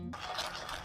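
Rice flour being stirred into jaggery syrup over a slow flame for Diwali adhirasam gives a brief, close, rough scrape of the spoon, just after a momentary voice at the start.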